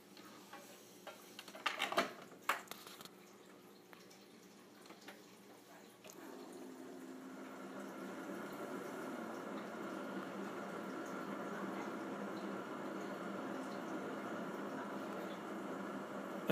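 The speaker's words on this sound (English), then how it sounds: "we're going to make some coffee with a Keurig" A Keurig coffee maker starts with a few clunks and clicks, then settles into a steady hiss and gurgle of brewing that carries on to the end at moderate loudness.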